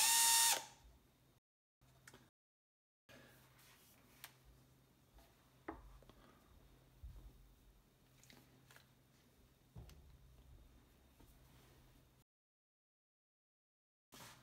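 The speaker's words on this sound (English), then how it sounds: "from there we can drill our pilot holes" A hand drill boring pilot holes into an EXP-style guitar body from a kit, heard as short, quiet whirring bursts with brief clicks and gaps of silence between them.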